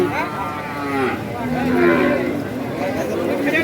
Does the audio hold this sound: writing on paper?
no